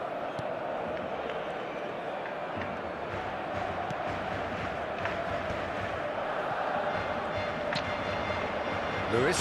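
Stadium crowd roar from the eFootball video game, a steady broad wash of cheering that swells slightly toward the end, heard throughout with no break.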